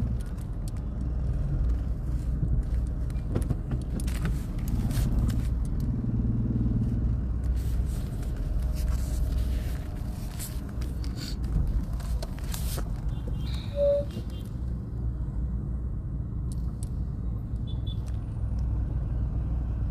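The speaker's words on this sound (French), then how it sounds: "Il faut que je rentre bien dans la rue là-bas pour garer la voiture." A car being parked on a street, with a low engine rumble running throughout and scattered clicks, knocks and shuffling noises, steady and moderately quiet with no clear talk.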